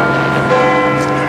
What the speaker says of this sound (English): Big Ben is chiming.